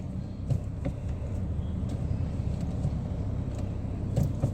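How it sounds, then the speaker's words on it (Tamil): Skoda Laura car engine running steadily after starting from long cranking, a low continuous rumble with a few faint clicks. "வண்டி லாங் கிராங்க் எடுத்து தான் ஸ்டார்ட் ஆகுது."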